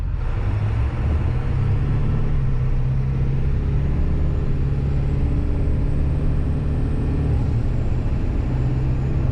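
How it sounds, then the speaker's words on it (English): A 7.3 Powerstroke diesel truck with a CNC Stage 2 high-pressure oil pump drives along a quiet road, its engine a steady, loud low rumble that continues without a break. "show you guys how this truck's running"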